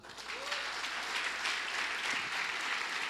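Steady applause from a Portuguese-speaking church congregation, many hands clapping together at an even level throughout, with faint voices underneath.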